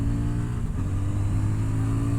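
CFMOTO 800NK motorcycle engine running steadily while being ridden, with a loud, continuous low drone and a slight dip in pitch partway through, close and alone with no talk.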